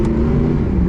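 A Mercedes SLS engine holds a loud, steady, close rev for under a second, with a raw, even low roar and no voices.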